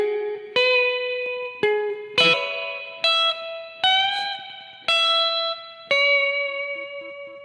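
Clean guitar notes plucked slowly one at a time, about eight in all, each ringing out before the next, with one bent note.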